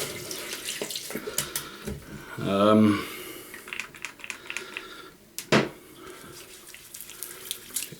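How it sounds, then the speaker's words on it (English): Tap water runs briefly into a sink while hands are rinsed during a wet shave with a Dovo Bismarck straight razor, a short gushing burst followed by splashes and small handling clatter, with a voice nearby. "Rinse off your hands."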